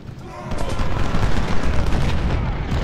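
Cannon fire on a Civil War battlefield in Ultimate General: Civil War, heard as heavy rolling booms and overlapping volleys, loud and continuous, with no speech over them.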